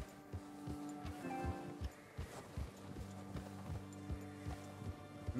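Hooves of a galloping horse in the video game Red Dead Redemption 2 thud in a steady, rhythmic beat over a low musical drone, fairly faint.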